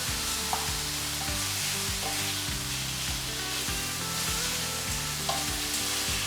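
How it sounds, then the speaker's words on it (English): Chicken pieces stir-frying with garlic and ginger in a hot pan give a steady, close sizzle and crackle, with repeated low scraping knocks as the pieces are stirred and turned. "It's starting to sizzle and the flavours will be mixing in with the chicken."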